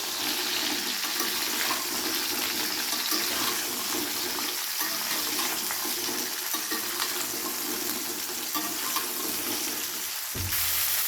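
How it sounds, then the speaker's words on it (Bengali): Pointed gourd (potol) pieces fry in oil with salt, giving a steady, loud, broadband sizzle that runs throughout with little change, briefly interrupted near the end. "তো সেই কারণে শুধু নুন দিয়ে ভেজে নিচ্ছি"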